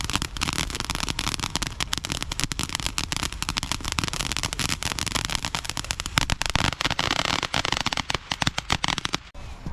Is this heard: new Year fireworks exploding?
yes